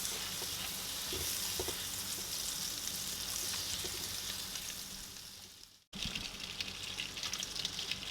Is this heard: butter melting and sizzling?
yes